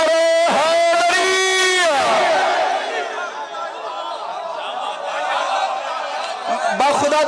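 A massed crowd at a 25 Rajab religious gathering in Bahawalpur roars the Naara-e-Haidri slogan in unison, answering a single leading voice that calls out first, then swelling into a loud, sustained chorus of shouting.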